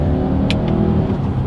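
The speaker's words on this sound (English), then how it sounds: "let's go ahead and do a quick little acceleration test with the paddle shifters" A turbocharged 2020 Subaru Outback engine accelerates under paddle-shifter control, a steady loud droning rumble heard from inside the cabin, with brief higher whooshes partway through.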